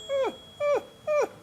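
A person imitates an anxious dog's whimper, giving three short, high, falling whines at a regular pace. The whines are close and fairly soft, with silence between them.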